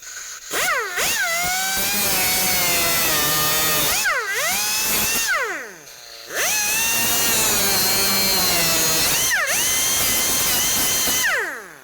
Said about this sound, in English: I like to use my cutoff tool.